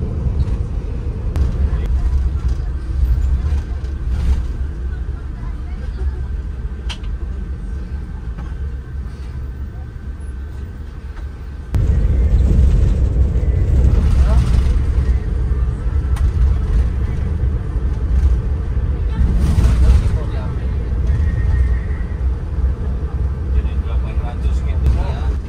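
Sleeper bus cruising a highway on the Jakarta to Bali run, a steady low engine and road rumble throughout that grows louder midway, with a voice talking over it.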